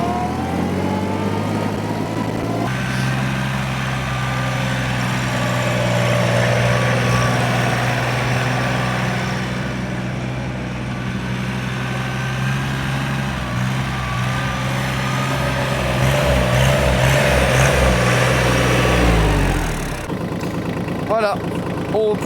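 A Kubota EK1 261 tractor runs in third gear at high speed, its engine drone steady and fairly loud for around twenty seconds, rising slightly in the middle before cutting down near the end.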